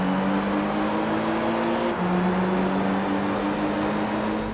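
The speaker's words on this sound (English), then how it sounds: "For GT3, all of the engine sounds were redone." Race car engines from Gran Turismo 3 roar steadily with a dense, loud, constant drone and a shifting pitch around one gear change, with no talk over them.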